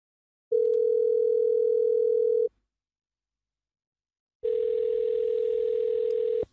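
A steady telephone tone sounds for about two seconds, breaks into silence, then returns for another two seconds with some added background hiss, loud and clean.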